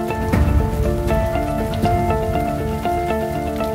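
Heavy rain pours down in an arid Jordanian canyon, seen from inside a cave, a loud continuous hiss and patter of drops with sharper splashes and drips, with no voices over it.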